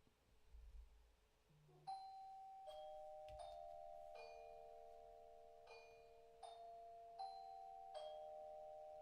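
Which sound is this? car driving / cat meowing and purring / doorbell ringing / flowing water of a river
doorbell ringing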